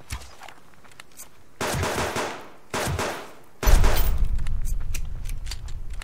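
Gunfire in the survival video game Subsistence, with bursts of rapid distant shots separated by short gaps, followed by a louder, sustained volley of rattling fire.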